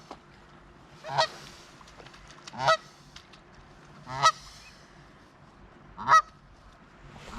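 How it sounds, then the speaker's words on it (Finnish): A goose honks four times in separate loud bursts a second or two apart by the Kiiminkijoki river, with a quiet outdoor background between calls. "Tulee päälle tuo hanhi muuten."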